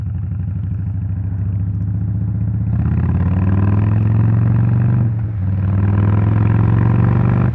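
Indian Chief motorcycle engine running steadily in sport mode while being ridden, a loud continuous mid-pitched drone with a brief dip and a slight rise in revs, no talking.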